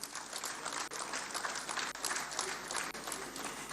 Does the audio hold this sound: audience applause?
yes